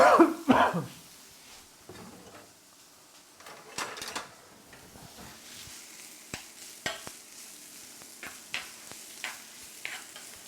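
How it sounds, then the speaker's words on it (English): Diced onions sauté in warm olive oil in a pan, a steady soft sizzle broken by scraping stirs and light utensil knocks, with a brief cough or throat clearing at the start. "And I'm going to saute"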